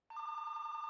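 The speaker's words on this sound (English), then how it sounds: "David's landline phone rang" A landline telephone bell rings as a sound effect, a steady bright electronic trill that starts abruptly and holds loud and close without a break for under a second.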